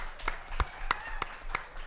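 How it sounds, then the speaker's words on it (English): An audience applauds briefly, a small crowd's clapping, moderately loud with a few sharper individual claps standing out. "Let's give Sarah a round of applause."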